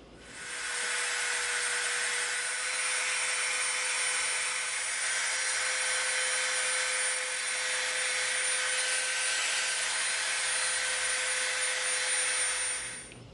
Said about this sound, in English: we're going to round these over with our Dremel